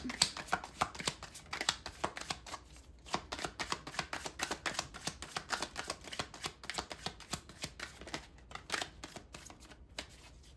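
Tarot cards are shuffled by hand in a steady, quiet run of crisp riffling flutters and soft slaps during a reading, with no talking.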